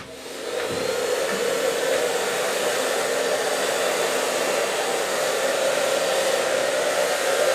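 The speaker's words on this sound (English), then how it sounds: "And I start at the front with a medium brush and a hairdryer." A hairdryer switches on and blows at a steady, loud whoosh without pause while hair is dried with a medium brush, no voices over it.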